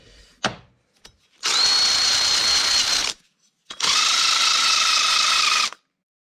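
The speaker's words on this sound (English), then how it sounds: "I like this plastic wire brush. It takes all dirt" Drill spinning a plastic wire brush against a New Holland TC45 tractor water pump part: two long, loud whirring bursts of about two seconds each, separated by a short pause, with a few small knocks before.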